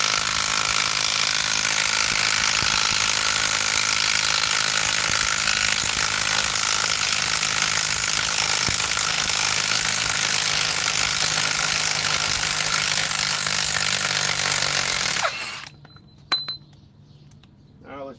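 A mid-torque impact wrench removing a fastener roars loudly and steadily for about fifteen seconds, then cuts off abruptly, followed by a few light metallic clinks.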